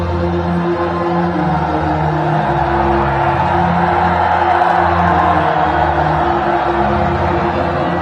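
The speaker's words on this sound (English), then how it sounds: "The crowd enjoying themselves come here in numbers." A large cricket stadium crowd during a one-day international between Bangladesh and Zimbabwe keeps up a steady, loud roar of cheering and chanting, a dense wash of voices with a low hum beneath.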